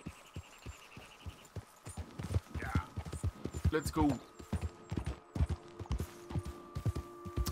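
Horse hooves clip-clopping on the ground in Red Dead Redemption 2, a steady, close, rhythmic plodding that runs throughout while someone speaks briefly over it.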